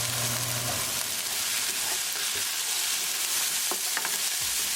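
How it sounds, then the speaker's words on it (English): French beans and paneer are stirred in a hot cooking pan, with a continuous dense sizzle and a few scraping strokes of the spoon, close and steady with no talking. "mix it well."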